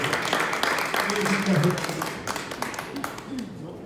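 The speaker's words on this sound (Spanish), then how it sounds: "Yo les pido un fuerte aplauso" Audience applause at a farewell gathering, a spread of clapping that fades gradually and runs under a speaker's voice throughout.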